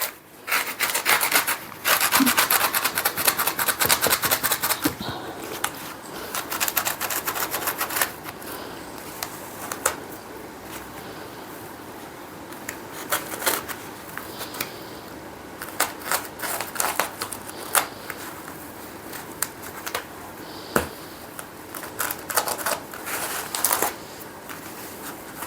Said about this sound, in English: My blade is only about half the thickness of the pool noodle, so I'm going to have to go through several times to cut through.